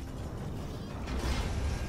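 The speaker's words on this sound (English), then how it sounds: "Let me get the door." A door opens in the video game Fortnite, with a grinding mechanical creak over a dense noisy background that swells in loudness partway through.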